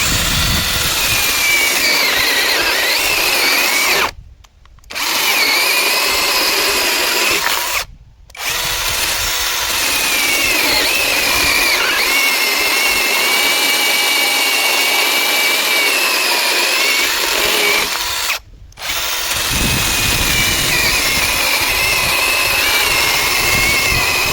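A Procraft PKA32LI cordless chainsaw cuts dry hardwood with a loud, close, continuous high whine, broken by three short pauses, with no voices.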